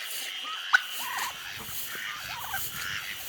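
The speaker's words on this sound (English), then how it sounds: "Turkey's calling me." A wild turkey gobbles outdoors in rainy weather, a quick warbling call repeated a few times at moderate distance, with a sharp bird call breaking in early and steady rain noise beneath.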